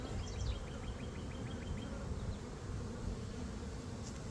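Honey bees buzz steadily throughout at a new apiary in hot, humid dearth conditions, a dense continuous hum close by with a few higher insect whines drifting over it.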